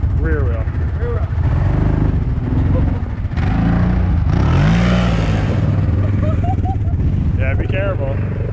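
A rear-wheel-drive vehicle doing donuts revs its engine in loud, rising and falling surges close by, with people talking and shouting over the noise throughout.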